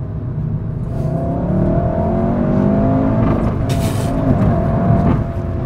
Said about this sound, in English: the exhaust makes all manner of pops and cracks as you hit it